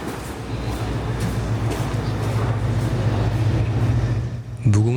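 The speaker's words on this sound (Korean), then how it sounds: "무궁화호 열차가 지나가는 모습을 출구로 나가는 걸음 속에서 찾을 수 있었습니다." A Mugunghwa passenger train passes near a station exit in Uiwang, a Korean railway district, with a steady low rumble and rolling rail noise. A brief squeal or horn-like tone rises sharply at the end.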